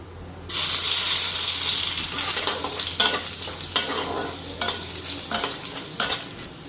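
Garlic and dried chilli hit hot oil in a wok and sizzle loudly at once, then settle into a steady fry broken by stirring scrapes, with no talking.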